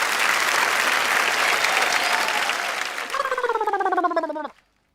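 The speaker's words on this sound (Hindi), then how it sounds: "जरा जोरदार तालियां" Applause from the audience at a Hindi poetry gathering, a dense burst of clapping that swells and then stops abruptly, with a short rhythmic chant or cheer near the end.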